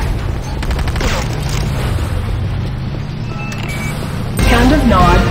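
Explosions rock a Nod structure under attack in the Command & Conquer game Renegade, a steady loud rumble of blasts with a heavier booming burst near the end, while game voice announcements play over it.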